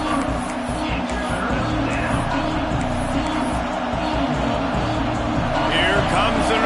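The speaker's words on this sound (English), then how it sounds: "Here comes the noise from this big crowd in Happy Valley on third down." A big home crowd roars at a Colorado versus Penn State college football game in Happy Valley on third down, a dense, steady wall of cheering and hubbub that stays loud throughout.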